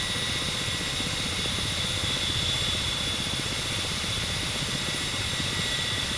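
Ka-50 coaxial-rotor attack helicopter in the DCS flight simulator, hovering with a steady turbine whine and constant rotor drone, loud and unbroken throughout.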